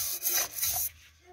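A small scraper rubs rust off a cast-iron braai grill in a continuous close, raspy scraping that goes on for most of a second and then trails away.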